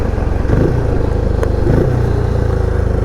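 A Benelli Imperiale 400 motorcycle out on a ride, its engine held in the mid-range torque band with a steady, loud, close thrum that rises a touch in places and has no talk over it.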